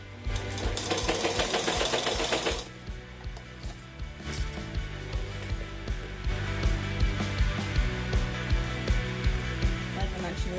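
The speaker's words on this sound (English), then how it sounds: "I'm just gonna stitch on straight" Sewing machine stitching cork fabric in a straight line, a steady rapid mechanical chatter throughout, close and fairly loud, with a brief pause in the middle before stitching resumes.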